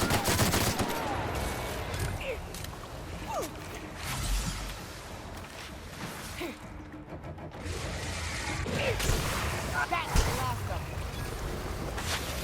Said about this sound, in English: Sam, you keep getting in my way when I'm trying to shoot.